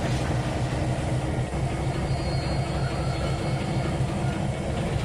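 A heavy train locomotive in Trainz 2019 strains under a load, giving a steady, loud, low rumbling drone that holds without a break throughout.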